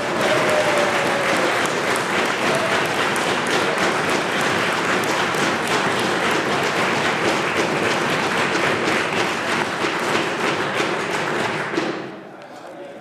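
Members in the British Columbia legislature chamber applaud and thump desks in a dense, steady roar lasting many seconds before cutting off abruptly near the end.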